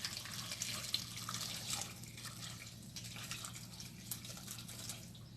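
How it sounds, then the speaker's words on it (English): Hot water pours steadily into a pot of meat pepper soup, a soft continuous splashing and trickling with a faint low hum underneath, fairly quiet and close. "Then I'm going to pour hot water."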